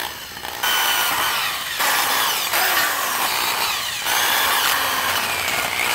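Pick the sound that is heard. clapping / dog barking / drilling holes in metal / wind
drilling holes in metal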